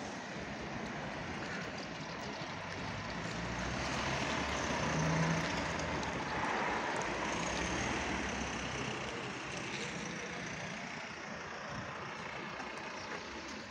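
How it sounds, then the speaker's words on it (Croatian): Cars and trucks pass along a street in the town centre of Modriča on a weekday morning, a faint steady traffic rumble that swells as a vehicle goes by around the middle, with no talking. "ima auta, do duše dosta"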